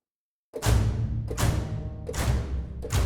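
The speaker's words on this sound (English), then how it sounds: "Legno is when they play with the bow" Sampled double bass playing col legno, the wood of the bow striking the strings, in three sharp percussive hits with ringing low decay, then a fourth starting at the end; close and alone.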